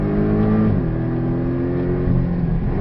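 A Porsche Cayman 718 S accelerates on the Portimao racing circuit, its engine note climbing steadily with a shift partway through. The sound is loud, close and continuous, with no talking.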